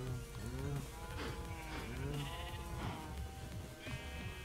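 Cows in a farming video game low repeatedly in overlapping, drawn-out moos and bleat-like calls from several animals, moderately loud against a steady background with no speech.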